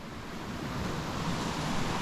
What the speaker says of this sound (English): the river looks really cool